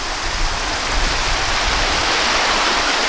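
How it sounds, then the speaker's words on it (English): A brook on Prince Edward Island rushes out from beneath a viewing platform, making a loud, continuous, even wash of flowing water. "the brook is coming from right underneath this viewing platform"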